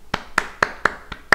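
Five sharp hand claps at a steady, even rhythm, close and distinct, with short silences between each one.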